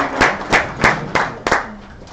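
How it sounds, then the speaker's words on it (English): A few sharp, evenly spaced hand claps at a business pitch event, about five distinct near claps in a steady rhythm rather than a full crowd's applause. "Let's give them another warm round of applause."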